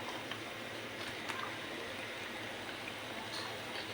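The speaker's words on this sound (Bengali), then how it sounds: "এটা ভাজতেছি।" Snacks frying in a pan of hot oil, a steady dense sizzle that stays even and continuous throughout, close by, with no voices.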